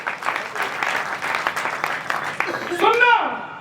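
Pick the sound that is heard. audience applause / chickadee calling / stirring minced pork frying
audience applause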